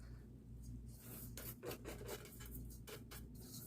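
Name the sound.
grating a block of sharp cheddar cheese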